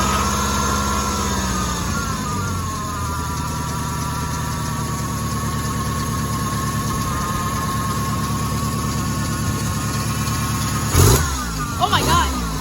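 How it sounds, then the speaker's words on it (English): An old truck engine, in the middle of a $200 tune-up, running steadily with a continuous mid-pitched rumble and drone that shifts slightly near the start. Brief louder bursts and a voice come near the end. "let's see if the vehicle starts up any better and easier."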